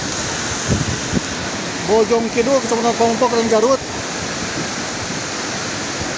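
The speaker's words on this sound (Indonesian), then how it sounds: "Wilayah Pompok dan sekitarnya sedang diguyur hujan dengan intensitas tinggi." Heavy rain and rushing floodwater pour as a steady, loud roar at night in Pameungpeuk, Garut, West Java, while someone speaks over the din for a couple of seconds.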